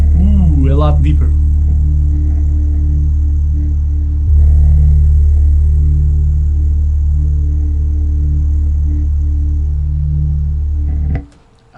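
Deep, sustained bass tone pumping from a 4-ohm 10-inch subwoofer, a steady low drone with harmonic layers holding loud for about eleven seconds before cutting off abruptly, with brief voice sounds near the start.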